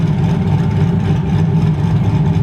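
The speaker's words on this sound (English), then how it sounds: "I'm gonna open the valve real quick, give you some revs" A 2004 Chevy Silverado with its exhaust cutout valve open, parked in a business lot, gives a loud, deep, steady engine rumble that fills the whole stretch without pause, and no one speaks.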